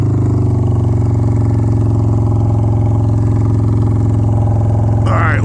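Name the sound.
Honda Shadow 750 ACE motorcycle idling with loud exhaust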